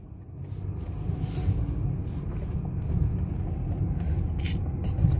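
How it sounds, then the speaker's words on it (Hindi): A car with high mileage and freshly changed oil drives off on a road in Riyadh, its engine giving a steady low rumble mixed with wind noise, rising slightly in level as it moves. "हमारी गाड़ी चल चुकी है।"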